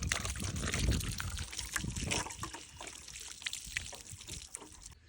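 Water pours into a 5-gallon bucket set beside a young Dunstan chestnut tree outdoors, a steady splashing, gurgling stream that fades toward a trickle, fairly close and loud with no talking.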